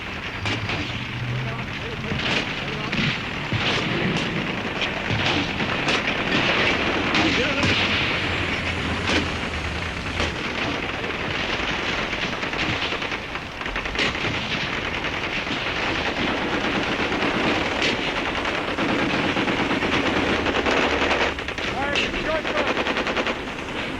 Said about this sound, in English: After the broadcast came the bullets. The bombardment lasted a full hour.